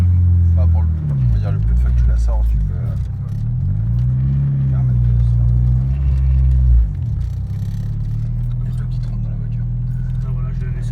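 Turbocharged Honda Civic EK with a B16A2 engine idling up close, a deep steady rumble with a few gentle rises and dips in revs, while someone talks over it throughout.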